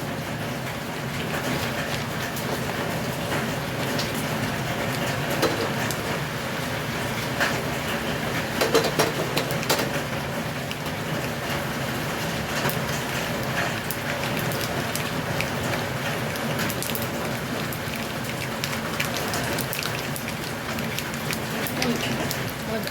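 Mustard seeds sizzle in hot coconut oil in a small pan, a loud, dense, unbroken hiss and crackle like heavy rain that holds steady for over twenty seconds.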